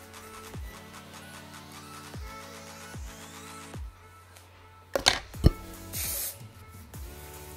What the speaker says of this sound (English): Comb it up, hairspray it, and then tease it.